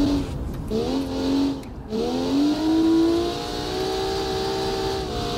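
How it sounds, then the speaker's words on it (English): A car driven hard around highway bends, its engine revving and whining through rising and falling gear pitches, close and loud with steady road noise underneath. "up onto the highway, wrestling the car around the bends there"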